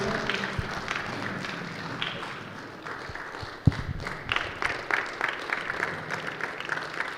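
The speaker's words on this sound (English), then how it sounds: "let's give you a round of applause" An audience at a business summit applauds with brisk, scattered clapping that dips briefly, then picks up again with a single loud thump partway through.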